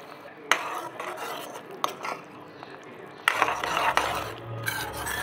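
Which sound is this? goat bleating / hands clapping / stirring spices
stirring spices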